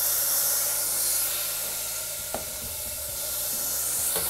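Grated coconut fries in a pan for village-style chicken salna, giving a steady close hiss and sizzle with a few faint scrapes of stirring and no talking.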